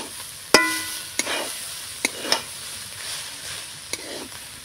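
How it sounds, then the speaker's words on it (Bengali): Cabbage fries with masala in a pan. A soft sizzle runs under sharp metallic clinks and scrapes as a spatula stirs it a few times, close up, with no one speaking. "এবার মশলাটা দিয়ে আরও বাঁধাকপিটা দিয়ে আমি কষিয়ে নেব ভালো করে একটুখানি।"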